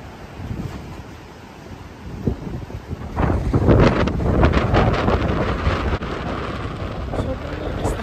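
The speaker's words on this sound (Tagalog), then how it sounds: "Sobrang lakas ng hangin ngayon" Strong gusty wind from Typhoon Dodong in 2023 buffets the microphone at the Zambales seashore in heavy roaring bursts, with surf faintly beneath and a voice speaking briefly under the wind.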